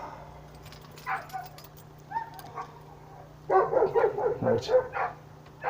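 A tied-up dog barking and whimpering, scattered yips and whines at first, then a denser burst of barks, with someone speaking briefly.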